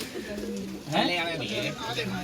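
Teera palle-wale pigeons coo in a low, rolling murmur, the soft repeated calls fairly close and quiet with no voices over them.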